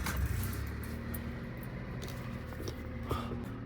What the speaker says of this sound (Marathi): सध्याची थंडी बघता कारला आपण थोडंसं कोल्ड स्टार्ट करूया.